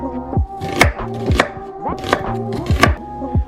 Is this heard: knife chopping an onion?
yes